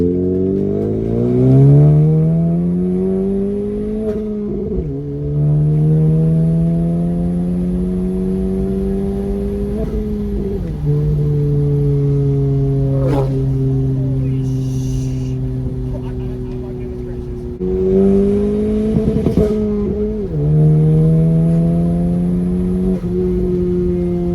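Engine of a modified 2019 Honda Civic Sport revving up through the gears while driving, a loud, rough drone that climbs in pitch, drops at each of several shifts, then climbs again, close and steady throughout.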